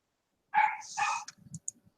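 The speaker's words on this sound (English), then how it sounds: "it's my grandma's dog, and it's very annoying. It barks all day. It's a Chihuahua with a Jack Russell mix." A small Chihuahua and Jack Russell mix dog barks twice in quick sharp yaps, close and loud, followed by softer scuffling and clicking sounds.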